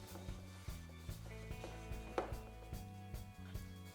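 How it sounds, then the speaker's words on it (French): Tart dough for a mango-coconut tart is mixed by hand in a bowl, with soft rhythmic thumps and knocks repeating roughly every half second over a steady background hum. "je mélange de façon à obtenir une pâte homogène"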